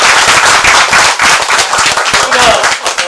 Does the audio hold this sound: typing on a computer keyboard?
no